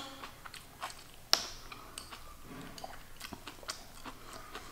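Close-up chewing of a collard green rice wrap, with a sharp crunchy bite early on followed by soft, moist mastication and small crackles, alone without talk.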